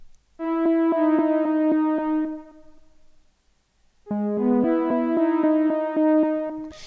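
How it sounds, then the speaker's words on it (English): A bright synth lead is processed with halftime and reverb effects and plays a phrase of plucked-sounding notes in a gated rhythm. The notes ring out into a short silence, then return at a lower pitch and climb again, with no talk. "so pretty similar, but then with the halftime and the reverb."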